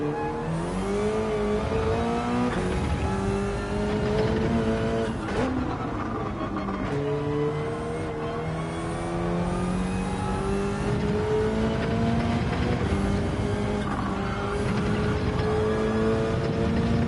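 A Gr3 race car engine drones steadily at Road Atlanta in a racing video game, its pitch climbing and dropping through gear changes with continuous revving at a constant level.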